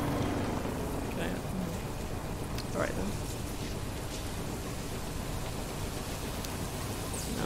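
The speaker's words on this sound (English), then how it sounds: "Now it's raining." Steady hiss of rain falling in the Death Stranding video game, a constant dense wash of sound with someone speaking briefly over it.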